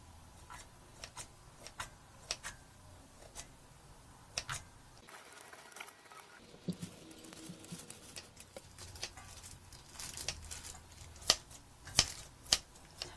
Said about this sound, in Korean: 삶은 당면을 잘게 잘라주세요. 가위로.